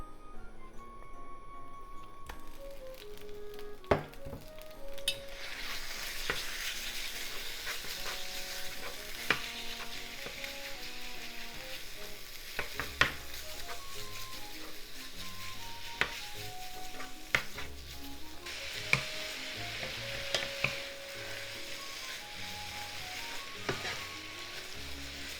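Pork sizzling in vegetable oil in a frying pan over medium heat, a steady crackling hiss with clicks and scrapes of stirring, heard close and alone, with no voices.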